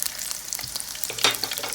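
Meat frying in a pan with onion for a home-cooked dinner, giving a close, steady crackling sizzle with occasional sharper pops and a brief stirring scrape, no voices.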